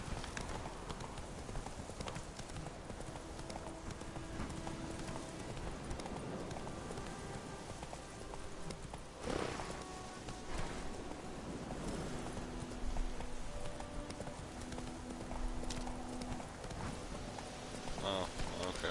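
Horse hooves clip-clopping in The Witcher 3 video game, a steady rhythmic trot running under game music and ambient noise, with someone talking over it.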